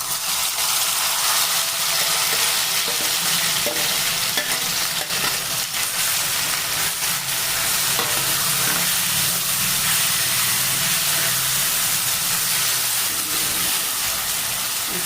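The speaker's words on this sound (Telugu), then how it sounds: "దీన్ని బాగా ఫ్రై చేసుకోవాలి" Sliced onions frying in a large amount of oil for onion chutney, a loud continuous close sizzle and hiss with occasional stirring scrapes, no talk.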